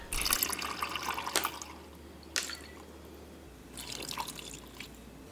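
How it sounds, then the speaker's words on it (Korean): Apple mango ade pours from a shot glass into plain yogurt in a dessert cup, a few soft liquid splashes and trickles heard close and fairly quiet, with no talking. "디저트 컵에 플레인요거트를 전부 붓고 애플망고에이드를 소주컵으로 한컵 부어주세요"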